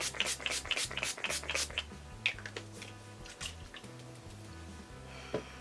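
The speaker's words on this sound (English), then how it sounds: "I'm just gonna spray some Mario Badescu facial spray with aloe herbs and rose water" Several quick hissing bursts of a Mario Badescu facial spray with aloe, herbs and rose water, misted in a rapid series at the start and a few more spaced pumps afterward, soft and close in a quiet room.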